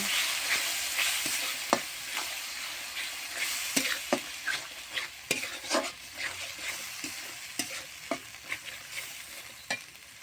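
A shrimp curry base gets stir-fried with turmeric and salt in a pan, giving a steady sizzle close up, broken by a rapid run of sharp scraping strokes from the spatula.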